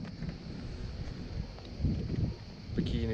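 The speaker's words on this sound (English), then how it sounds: "It is quite a strong wind." Strong wind buffets an anchored boat, a constant rushing gust against the microphone with slight swells in intensity, faint knocks and rustles beneath, and a person speaking softly in the background.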